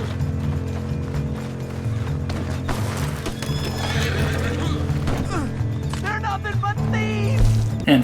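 Horse whinnies and clip-clopping hooves from Red Dead Online, set over continuous game music and ambience, with a loud neigh rising near the end.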